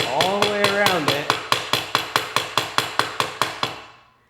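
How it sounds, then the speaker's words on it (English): Steady hammer blows driving a bottom bracket bearing into a bicycle frame: about fifteen sharp, evenly spaced metallic strikes in quick succession, close and loud, with a brief ringing tone near the start. "we can go ahead and hit our bottom bracket bearing in, all the way around it"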